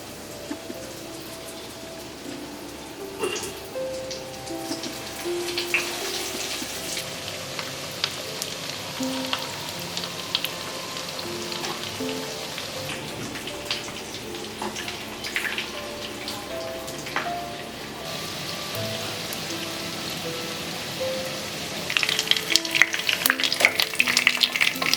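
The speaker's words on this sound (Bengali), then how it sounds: "এবার ফিশ ফ্রাইটা ভাজি।" Fish fry pieces frying in a pan of oil give a continuous crackling sizzle with scattered pops and spits, growing busier and louder toward the end, with no talking.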